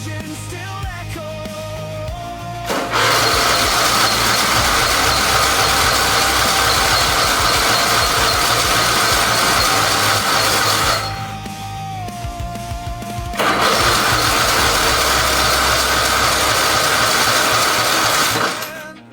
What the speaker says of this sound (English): And those engines still echo.